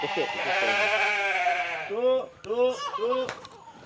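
A farmer's cow call to summon cows on a Florida homestead farm: a voice imitating a drawn-out bleating moo, first long and sustained, then several shorter wavering calls, loud and close.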